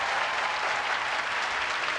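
A studio audience claps steadily and loudly at a taped comedy show, a dense unbroken wash of applause with no voices over it.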